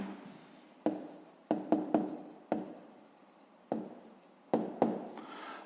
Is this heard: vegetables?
no